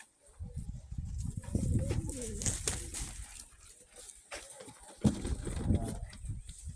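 A white-tailed buckwheat-colored Krymak pigeon coos in soft low repeated phrases close by, amid rustling and handling noise.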